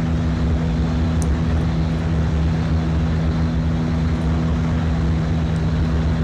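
Propeller airplane engine in the Flight Sim World video game, a steady, continuous droning hum with a low tonal whine that holds evenly throughout, with no voices over it.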